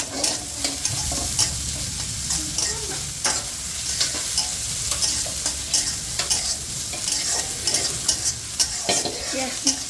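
Chopped onions frying in a pan for nihari, turned until lightly browned, with a loud continuous sizzle and repeated sharp scraping and stirring clicks throughout, no talk.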